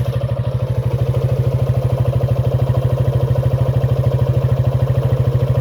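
A restored Town mate T80 motorcycle with its original exhaust idles close by, its engine putting out a fast, even putter with a light mechanical clatter, steady and loud throughout without any voices.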